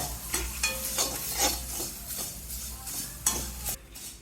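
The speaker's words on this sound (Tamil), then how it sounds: "உப்பையும் வறுத்துக்குங்க" Salt dry-roasts in a pan for moringa idli podi, stirred with a quick run of scraping strokes over a faint sizzle, close and with no talk.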